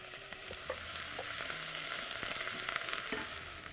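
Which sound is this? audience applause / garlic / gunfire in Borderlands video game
garlic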